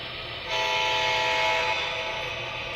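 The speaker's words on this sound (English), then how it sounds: "I'll sound the crossing signal." An MTH model train's horn sounds the crossing signal, a loud sustained blast that starts about half a second in and holds steady over the low rumble of the running layout, with no talking.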